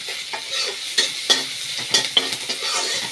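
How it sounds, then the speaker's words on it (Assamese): Onions frying in a pan give off a steady close sizzle, with several sharp scrapes and clatters as they are stirred at uneven intervals. "এনেও ভলৰ লগত পিঁয়াজটো ভাজাই যাব"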